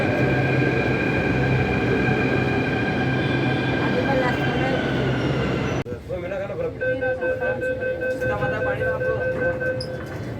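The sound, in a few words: Jaipur metro train running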